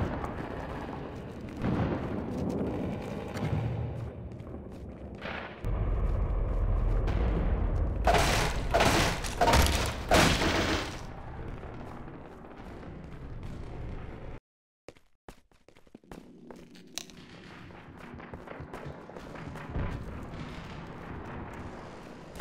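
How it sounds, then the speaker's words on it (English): Rebel rocket launcher fire in a video game: a dense run of loud booms and blasts, with a sharp cluster of explosive bursts in the middle, followed by a sudden cut to near-silence and then lower rumbling. "rebels are really trigger happy with these rocket launchers."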